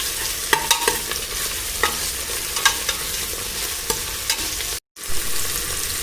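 Tomatoes sizzle in a hot pan while a utensil stirs and scrapes in repeated strokes; the sound cuts out briefly near the end.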